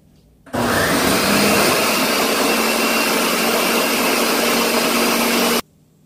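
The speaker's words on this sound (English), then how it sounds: "we will turn on the Ninja by pressing the power button and selecting one of the three speeds" A Ninja blender runs on its lowest speed, a steady, loud whirring motor with a broad noisy roar that starts abruptly, holds constant for about five seconds, then cuts off cleanly.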